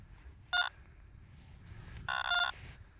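A metal detector beeps in two clear tonal bursts while a pair hunts for buried metal, a short one near the start and a longer steadier tone later, over low background rumble.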